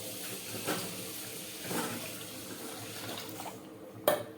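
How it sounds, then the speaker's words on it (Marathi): Water is poured into a pot of washed rice in a home kitchen, a soft running splash with a few louder surges and a brief sharp knock near the end. "तांदूळ धुवून घेतले आहेत. त्यामध्ये आता आपण पाणी टाकूया."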